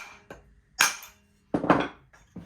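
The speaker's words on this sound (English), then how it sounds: "I actually hit the nut with a ball peen hammer" Metal taps from a ball peen hammer striking the nut on a Husqvarna 362xp chainsaw during a teardown, three separate sharp strikes spaced apart, the middle and last ringing loudest, close and alone.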